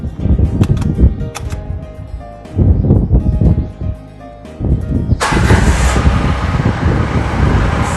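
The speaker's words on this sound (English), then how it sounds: "So after second crank the car is on." A Ram car engine cranks in short bursts, pauses, then cranks again and catches after a fuel filter replacement, settling into a steady running idle up close.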